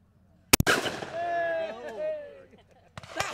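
At a game fair, a shotgun fires two sharp, loud reports in quick succession at clay targets. A voice talks between them, and another shot sounds near the end.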